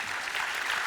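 A brief, dense burst of audience applause at a regional business awards ceremony, the Côte-d'Or enterprise trophies, steady clapping from a crowd.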